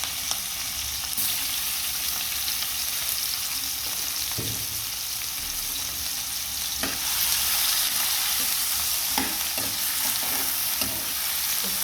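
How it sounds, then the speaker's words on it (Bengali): Onion, tomato and green chilli frying in a pan, a soft continuous sizzle with occasional clinks and scrapes of stirring, close and steady, with no talk. "পেঁয়াজ টমেটো ভাজা হয়ে গেছে"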